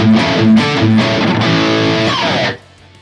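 High-gain distorted electric guitar through the Atomica High amp model on a Fractal Axe-Fx 3 modeler plays a few choppy, palm-muted chugs, then a sustained ringing chord that cuts off sharply, leaving near silence at the end.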